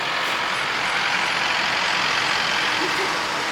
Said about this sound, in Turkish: Şimdi yani bayağı bir trafik var hem de.